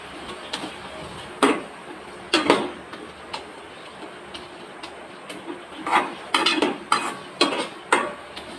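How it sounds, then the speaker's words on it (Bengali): Tomatoes sautéed in a pan and stirred so a utensil knocks and scrapes against the metal in irregular clusters of sharp taps over a faint background sizzle, close up with no voices. "তাই আমি একটু হালকা একটু যাতে পোড়া পোড়া ভাব আসে এজন্য নেড়ে চেড়ে একটু কষিয়ে নিচ্ছি"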